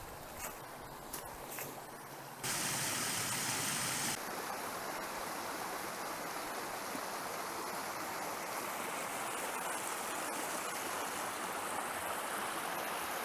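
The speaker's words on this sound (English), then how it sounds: "There's my next river crossing." A river rushes past at a trail crossing near the Ocoee River and Thunder Rock campground, a steady broadband roar of flowing water, loud and close, with a brief louder burst early on and no talking.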